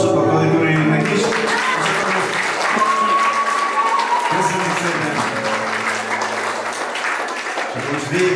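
Applause from an audience at a live music show fills the whole stretch with steady, dense clapping, while a voice speaks briefly over it and the crowd keeps clapping.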